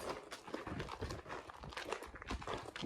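A Shetland pony walks with hooves clip-clopping in a steady, close rhythm, steps overlapping with light background noise and no talk.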